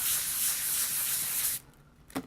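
A sanding block rubs across a surface in one steady rasping stroke lasting over a second, followed by a brief quieter scrape.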